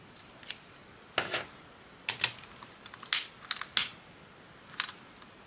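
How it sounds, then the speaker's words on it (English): Scissors snipping card or paper while crafting a mini 2026 calendar, giving several short, crisp cuts spaced irregularly with quiet pauses, close and moderately faint. "Snip that off."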